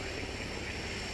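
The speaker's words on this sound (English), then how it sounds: "After quickly refueling their planes and their stomachs, they're back out again." Search airplanes flying overhead during a search-and-rescue callout for capsized canoe victims, a steady broadband engine drone with no breaks and no talk over it.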